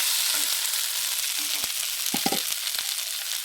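Potatoes and tomatoes fry in a pan with a steady, close hiss of sizzling oil, broken by a few soft scrapes and taps as the mixture is stirred.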